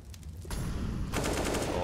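AK rifle fire in CS:GO on the Mirage map during a pro esports match, heard as loud, rapid, sustained automatic bursts that start in after a short lead-in, with no talk over them.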